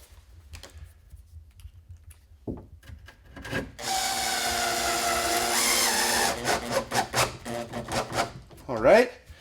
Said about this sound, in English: So I'm just going to put a final screw in it.